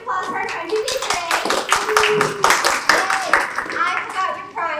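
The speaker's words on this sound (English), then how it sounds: "Let's give a round of applause for our contribution." A brief burst of clapping from a small group applauds the winner of a game at an event, with excited voices, including a child's, calling out over the claps.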